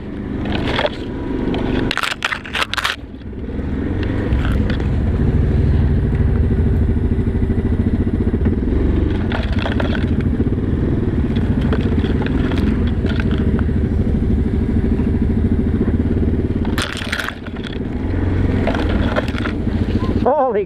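An ATV engine drones loudly and steadily as the machine drives through snowy woods, broken by sharp clattering bursts near the start and end, with a voice heard at times.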